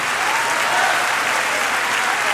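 Strong, even applause fills a church as the congregation claps in a thick, unbroken wash, close and loud from start to finish.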